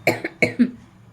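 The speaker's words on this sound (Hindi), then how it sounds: "मुझे खांसी आने लगी" Three quick, dry coughs up close, closely spaced, followed by a short quiet pause.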